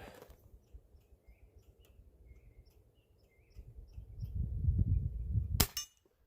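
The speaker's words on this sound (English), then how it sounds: "there's a grouse behind me" Low, accelerating thumping builds in the background, the deep drumming of a grouse display, followed by a sharp loud crack near the end.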